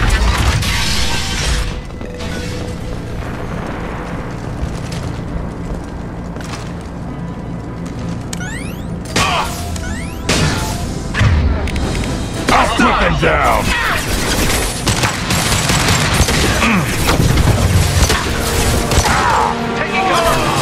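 Continuous dense gunfire and crashing impacts from Blue Suns mercenaries and Vorcha in Mass Effect 2 fill the scene with a loud, busy din and occasional sharp clatters and sweeps.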